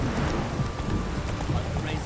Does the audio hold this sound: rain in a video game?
yes